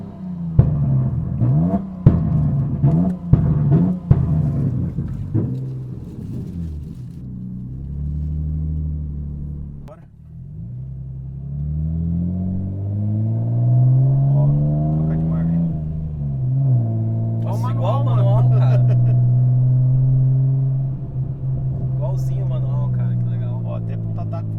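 A 2000 Nissan Skyline ER34 on a street in Curitiba revs hard, its engine rising and falling in long sweeps before settling into a loud sustained rumble, with people talking over it.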